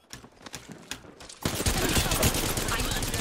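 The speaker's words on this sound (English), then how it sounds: "I'm taking fire." Automatic weapon fire from the battle royale shooter Apex Legends, starting with sparse shots then erupting into a dense, loud, sustained burst of rapid gunfire and impacts.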